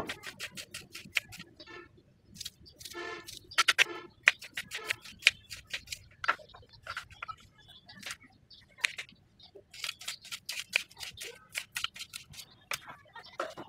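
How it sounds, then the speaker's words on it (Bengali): Onions are chopped for mint leaf fritters, giving crisp, close, irregular taps and clicks in quick clusters with short pauses between them. "তো আমরা পেঁয়াজটা কেটে নিয়ে সেটা দিব।"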